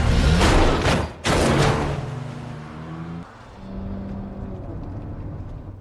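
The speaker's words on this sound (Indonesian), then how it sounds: "tiba-tiba Meng Gui ditabrak sebuah mobil" A car striking a person in a film scene, a loud close rush of engine and impact noise with a sharp break, then a lower fading whir and tonal hum afterward, no talk.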